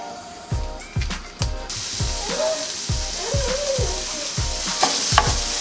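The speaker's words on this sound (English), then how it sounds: "So first we're just gonna cook the meat all the way" Ground meat sizzling in a hot pan for taco rice, with a steady frying hiss under repeated rhythmic scraping thuds of a spatula stirring and breaking up the meat.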